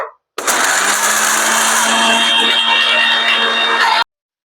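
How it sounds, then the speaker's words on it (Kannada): A kitchen mixer grinder runs with its jar full of cold coffee ingredients, starting abruptly and holding a loud, steady whirring drone for about four seconds before cutting off sharply. "ಇದನ್ನ 1 ನಿಮಿಷ ಗ್ರೈಂಡ್ ಮಾಡ್ಕೋತೇನೆ ನಾನು"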